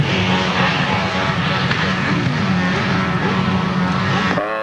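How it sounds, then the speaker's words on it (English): Grasstrack racing sidecars revving hard on the start line at a 1995 meeting, a loud, close snarl of several engines blipping and holding high revs before cutting off near the end, with commentary underneath. "Oh, those sidecars are revving on the line,"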